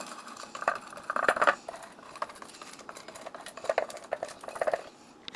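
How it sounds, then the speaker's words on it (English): A small silicone brush spreads olive oil into the cups of a metal muffin tin, giving soft scrapes and light clinks of the tin in a few short bursts with quiet pauses between them. "I'm going to use a little silicone brush like this to just go into each one and evenly get the olive oil"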